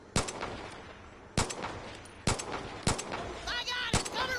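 Four loud, sharp gunshots from the video game Far Cry 5, spaced irregularly about a second apart, each a near, punchy crack with a short decay, followed by quieter scattered game noise and chatter.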